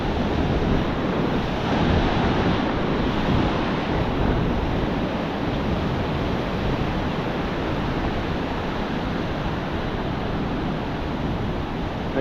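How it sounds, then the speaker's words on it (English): Ocean waves breaking on a flat beach with no gutters, heard as a steady, unbroken roar of surf with wind buffeting the microphone throughout. "those waves keep coming"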